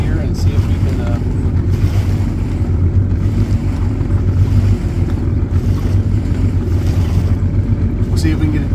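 A Kawasaki SXR 1500 stand-up jet ski with a 12F motor making a speed pass on open water: a steady, loud roaring engine drone mixed with wind and water rush throughout, without pauses.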